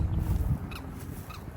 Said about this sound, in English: Oh, got these birds again. The brown suckers, they're noisy as hell.